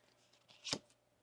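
A tarot card deck being shuffled once more: a single quick, soft riffle of cards up close, lasting under a second in an otherwise quiet room with no talking.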